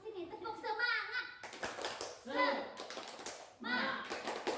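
A class of young children performs a rhythmic spirit clap in an Islamic school classroom, their bursts of patterned clapping mixed with loud chanting voices and a teacher talking.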